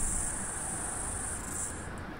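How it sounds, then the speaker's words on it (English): Cicadas droning outdoors in early November, a steady high-pitched buzz that holds evenly throughout with no voices over it. "But we're back into cicada season now."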